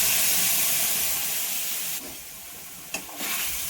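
Mustard seeds crackle in hot oil, a bright steady sizzling hiss close up with faint popping crackles, dipping briefly then resuming, no voices.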